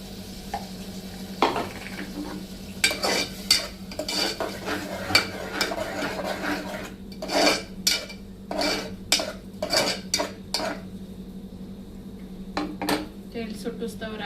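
Tomato paste being stirred into pink-browned onion masala in a pan, with repeated spoon scrapes and clinks against the metal alongside a soft sizzle, close and clear, with no talking.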